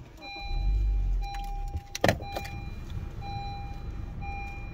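A 2018 Honda Civic EX cranks and catches with a short burst, over a low idle rumble, while repeated electronic dashboard chimes sound close by inside the cabin.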